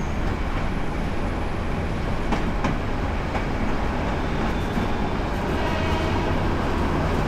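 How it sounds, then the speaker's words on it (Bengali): Chattogram University shuttle train rolling along the line, a loud continuous rumble of wheels and carriages with faint rhythmic rail clicks and a thin squeal, steady and close throughout. "ট্রেন তো এখন মূল প্ল্যাটফর্মের দিকে যাচ্ছে"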